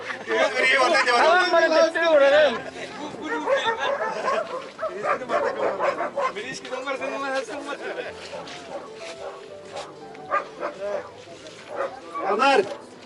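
East Siberian Laika dogs barking and yipping in a show ring at a Yakutian Laika show, a busy overlapping chorus of barks mixed with a loudspeaker voice and crowd chatter.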